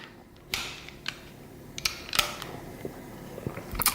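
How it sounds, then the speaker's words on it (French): Slide stop being pulled out of a Browning GP 35 pistol during disassembly, a run of faint, sparse metallic clicks and scrapes spaced irregularly over quiet room noise. "je retire l'arrêtoire de culasse"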